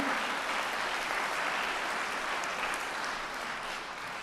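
Church congregation applauding a friend seated in the pews during a Sunday service, a steady dense wash of clapping filling the room for several seconds, slightly easing toward the end.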